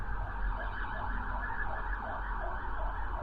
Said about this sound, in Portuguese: deixa eu passar a sirene aqui